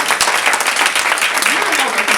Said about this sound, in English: Y'all give yourselves a hand clap.